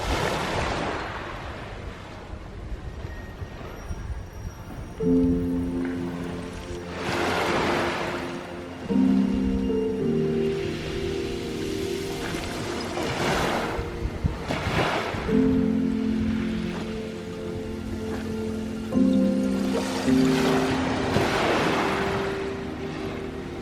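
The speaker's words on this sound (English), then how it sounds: "Thousands of coral bones crashing together at the movement of the waves, creating a musical" Ocean waves at Fitzroy Island roll over loose coral fragments, bringing repeated surges of wash with a glassy clinking, tinkling rattle each time the water moves. The sound swells and fades in an irregular rhythm, with no voices.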